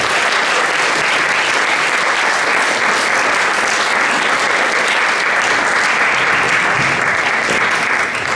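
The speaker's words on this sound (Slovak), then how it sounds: "Poprosím ešte jeden veľký velikánsky potlesk." An audience at an outdoor summer children's event gives a big round of applause, loud, dense clapping that carries on evenly throughout.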